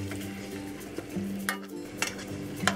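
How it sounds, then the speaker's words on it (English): A spoon stirs Thai red curry with acorn squash in a bubbling pot, producing soft scraping and clinks over a low simmering sizzle, close and without talk. "Give this a good mix."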